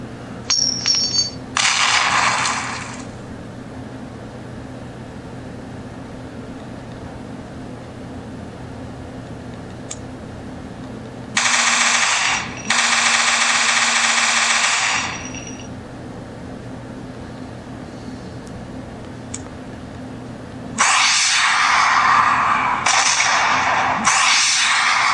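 Gun sound effects from an Android gun app, covering an AR, sniper rifle, revolver and shotgun: three separate bursts of sharp, loud mechanical clacks and shots divided by long quiet gaps over a low steady hum.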